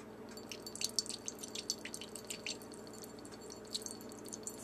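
Worcestershire sauce poured from a bottle onto pork chops in a home kitchen, giving quick, faint splashy drips in irregular bursts over a steady low background hum.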